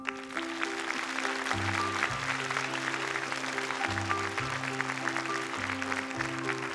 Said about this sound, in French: monsieur Stéphane, qu'on applaudit